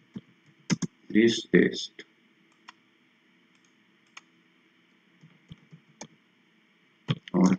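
Keyboard typing at a computer while entering text into an online quiz or exam form, with a few sharp key clicks near 0.7 s and at 7.3 s, around a brief spoken phrase and otherwise quiet stretches.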